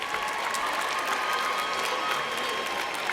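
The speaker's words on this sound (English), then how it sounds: "Let's give a round of applause for all of our Masters in Journalism graduates." A large commencement crowd at USC Annenberg applauds the Masters in Journalism graduates, a dense, sustained roar of clapping with faint cheers spread evenly across a big hall.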